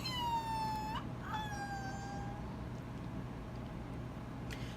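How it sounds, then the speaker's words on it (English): A police siren wails in the distance, its falling tones sweeping down twice before fading, heard faintly over a steady low hum. "Sorry about the sirens."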